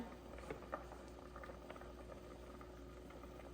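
A pot of fish and vegetable soup with dalagang bukid fish bubbles at a steady simmer, faint patter and gurgle running continuously without talk.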